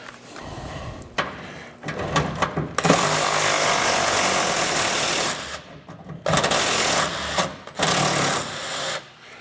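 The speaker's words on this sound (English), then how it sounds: "there is a bolt on the bottom over here that you need to remove in order to get this one off of here." A power tool spins out a fender flare bolt on a 2014 Ford F150. Short buzzing bursts lead into a loud, sustained whir of about three seconds, followed by a few more brief runs.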